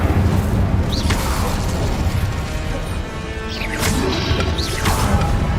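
Incendio and Confringo spell blasts go off in Hogwarts Legacy as a dense, loud run of crashing booms and fiery bursts. Sharper whooshing hits land near 1, 4 and 5 seconds over continuous rumble.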